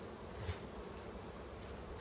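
Honey bees around a hive, where a honey super is being taken off, make a steady dense buzz that holds at a moderate level throughout, with no voices.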